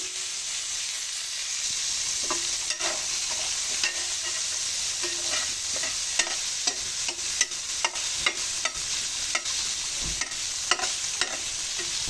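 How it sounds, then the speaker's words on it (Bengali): Papaya flowers fry in a little oil in a wok, a steady sizzling hiss broken by repeated sharp scrapes and taps of stirring. "এবার আমি পেঁপে ফুলগুলো দিয়ে দেবো"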